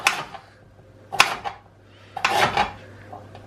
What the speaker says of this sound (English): the narrow end I'm just going to chop